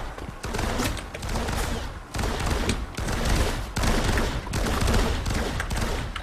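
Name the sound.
gun turret firing, from video game Firefall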